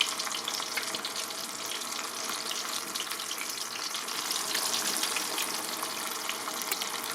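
Flour-coated chicken wings fry in a pot of deep oil, giving a steady crackling sizzle with scattered pops, close and continuous.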